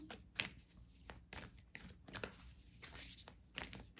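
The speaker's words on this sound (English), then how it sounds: "Still shuffling." A deck of vampire-themed tarot cards is shuffled by hand, a faint, close, steady riffling and soft slapping of cards repeating in uneven bursts.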